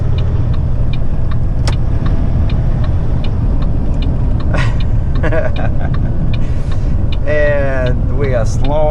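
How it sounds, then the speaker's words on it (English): A powerful heavy haul truck's engine drones steadily as it drives at around 75 km/h, a loud continuous low rumble throughout, with some speech-like tones and squeaks over it. "What a powerful truck."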